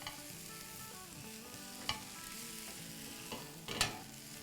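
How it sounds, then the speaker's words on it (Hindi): Shredded chicken filling for crispy cheesy chicken rolls being mixed, with a soft continuous scraping and stirring texture and a few sharper utensil knocks near the end, close and steady with no talking. "चलें अब इसको हम मिक्स करते हैं।"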